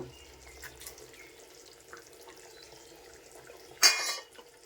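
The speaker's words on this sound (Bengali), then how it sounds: "আমি এখন জল দিয়ে দিব জল দিয়ে দিব" Water is poured into a simmering prawn and potato curry in a pot, a short splashing gush near the end after quiet faint kitchen clatter and bubbling.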